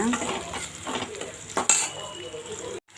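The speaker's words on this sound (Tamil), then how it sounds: "பாருங்கள், வெங்காயம் நல்லா வதங்கிட்டுருக்கு." Onions sautéing in a pan for salna give a continuous sizzle with scraping stirs of a spoon against the metal and a sharp clink near the end, followed by a brief silence.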